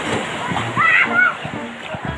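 Sea waves splash and slosh at a beach, a continuous watery wash with a slightly louder surge in the middle, while people talk over it.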